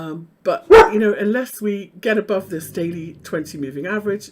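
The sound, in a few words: dog barking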